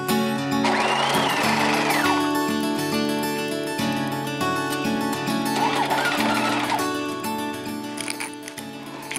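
A sewing machine stitching a seam on a denim baby bootie, running in a steady close mechanical whir with brief pauses and changes in speed.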